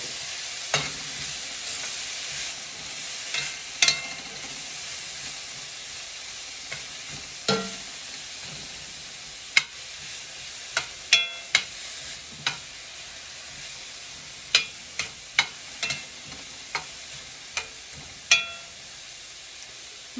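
Vegetables softening in olive oil in a pan for a Tex-Mex casserole, with a low steady sizzle broken by repeated sharp clicks and scrapes of stirring at an irregular rhythm, no voices.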